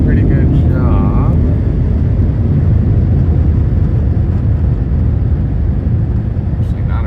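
Air blowers at a PDQ Tandem ProTouch car wash at an Exxon in Cedar Park, Texas pour out a constant deep roar close by. A faint voice shows briefly near the start under the steady rush.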